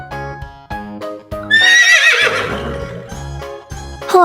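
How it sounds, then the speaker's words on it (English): A horse whinnies loudly in a long, shaky neigh at mid-clip, set between stretches of bright, repeating background music that carries on around it. "Horse."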